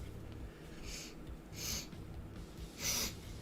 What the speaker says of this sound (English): Ah, got the sniffles.